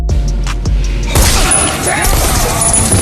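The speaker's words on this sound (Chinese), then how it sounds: "毒贩老大比尔查清后暴怒，直接枪杀3人" Gunfire rings out in the crime drama Ozark as a drug cartel boss shoots three men. A sudden loud, sharp burst of shots follows a few dull thumps and then trails into a noisy, ringing wash.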